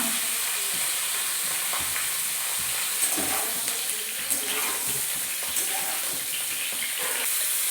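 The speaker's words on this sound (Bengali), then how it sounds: "তেল গরম হয়ে গেছে, আমি ফুলকপিগুলো ভেজে নিচ্ছি।" Cauliflower pieces fry in hot white oil in a wok, giving a steady broadband sizzle throughout with occasional soft stirring clicks and splatter pops.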